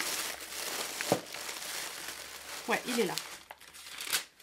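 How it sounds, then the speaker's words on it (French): Close crinkling and rustling of paper wrapping, with brief crackles, while a person speaks briefly over it. "Je suis désolée pour le bruit des papiers."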